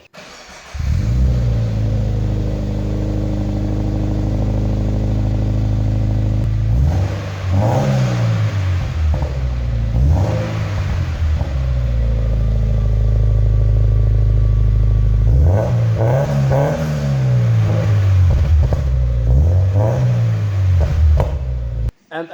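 A Toyota GT86 with a newly installed aftermarket exhaust idles loudly nearby, then revs up sharply several times in repeated rising and falling bursts, with a deep, rumbling exhaust note.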